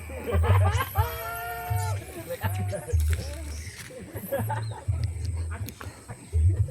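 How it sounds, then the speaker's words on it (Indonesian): Monkeys call in the forest near Kalitalang on the slopes of Merapi, giving a few drawn-out, wavering cries at middle distance while people talk over them. "Suara monyet di sebelah sana kayaknya."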